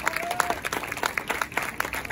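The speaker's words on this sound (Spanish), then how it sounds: "un aplauso también muy grande para su productora ejecutiva, Karen Barroeta" Applause at a press conference for a film or series cast, brisk close clapping from a modest crowd, steady throughout with a brief tone near the start.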